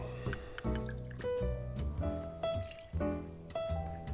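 Chambord raspberry liqueur pours out for a cocktail with a close, quiet, gurgling glug and trickle that bubbles in uneven pulses for a few seconds.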